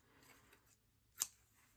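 A single short scissors snip, as if cutting paper during a paper-clip craft project, stands out once as a crisp, close click against a quiet background.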